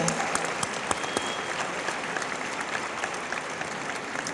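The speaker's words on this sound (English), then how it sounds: "Let's applaud all of you." Sustained applause fills a gala ballroom as a large audience rises and claps, dense and steady for several seconds with scattered sharper claps standing out near the front.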